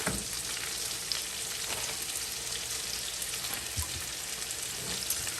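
Riced cauliflower, boiled earlier, sautés in coconut oil in a skillet with a continuous crackling sizzle like light rain, close and fairly quiet, with a faint stir or two and no speech.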